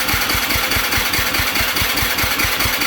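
A 2019-2023 Yamaha YZ250F motorcycle with a no-start fault cranks over on its electric starter, giving a loud, steady run of rapid, evenly spaced low thumps for about three seconds with no talking.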